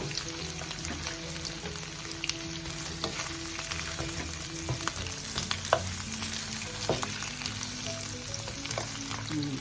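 Ground beef for French onion burgers sizzles steadily in a hot pan, broken up with a wooden spoon that adds scraping, clicking strokes over the continuous frying hiss.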